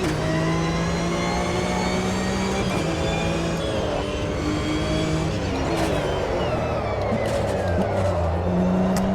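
Porsche engine in the racing video game Assetto Corsa Evo, revving loud and steady with rising and falling pitch through gear changes, no talk over it.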